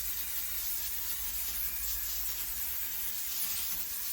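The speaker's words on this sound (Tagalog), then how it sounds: "this is non-stick cooking spray with butter flavor" Butter-flavored non-stick cooking spray hissing steadily from a can, a continuous close airy spray lasting several seconds without pause.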